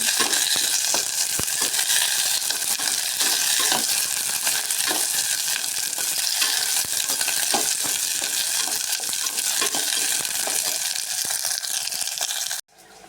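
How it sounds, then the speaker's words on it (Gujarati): Ivy gourd sambharo fries in a pan with a loud, continuous sizzle and crackle, while a spoon stirs and scrapes through it close up, until the sound cuts off abruptly near the end. "બળી ન જાય એટલે હલાવી રાખવાનું।"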